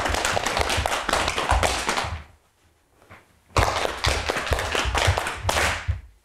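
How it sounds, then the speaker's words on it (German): Body percussion for a round: quick runs of hand claps and thigh pats in steady rhythm, a short near-silent pause, then another lively burst of slaps and claps. "Jetzt klatschen wir insgesamt oder patschen achtmal."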